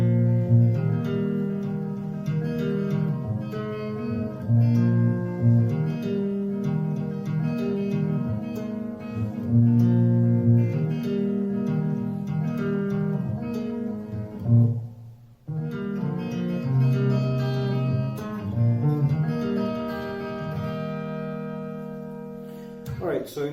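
An acoustic guitar plays the chorus bar of a song, strummed chords in a steady rhythm, close and clear, with one brief pause partway through.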